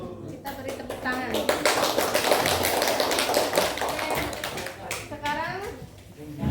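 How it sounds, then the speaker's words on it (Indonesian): Classroom applause breaks out after a group presentation, a burst of many hands clapping close by for several seconds, with children's voices chattering over and around it. "Kita beri tepuk tangan."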